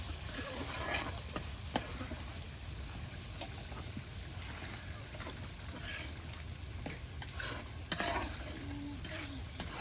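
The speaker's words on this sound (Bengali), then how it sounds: "বেশ সুন্দর করে কিন্তু মশলা কষিয়ে নেওয়া হচ্ছে।" Ground spice paste fries and is stirred in a pan at a village cooking spot for a sour fish curry, a steady close sizzle with repeated scraping stir strokes and occasional sharper clinks, no talking.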